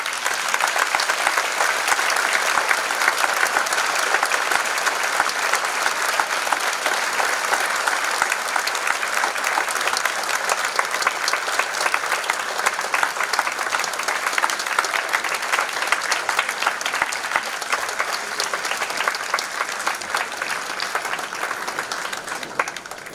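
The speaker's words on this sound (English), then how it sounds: "please join me in giving them a round of applause as they come forward" An audience at a school convocation applauds steadily as the superintendent's cabinet comes onto the stage, dense sustained clapping from a large crowd filling the hall at an even level throughout.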